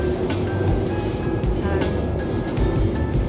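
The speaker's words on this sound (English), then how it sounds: "Another train to finally bring us to Shanghai." Train ride in China toward Shanghai, a steady, loud rumble of the carriage with low-frequency drone, faint high whine and occasional clatter running throughout.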